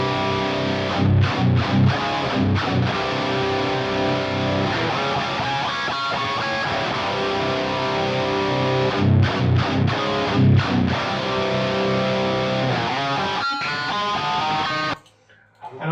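Two stereo-doubled distorted electric guitar parts play through a Marty Friedman signature SansAmp pedal. Thick, loud chord stabs and sustained notes run together for about fifteen seconds and then cut off abruptly.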